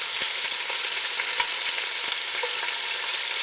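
Chunks of beef searing in a hot pan for goulash, a bright, steady sizzle close up, with faint pops and light utensil taps scattered through it.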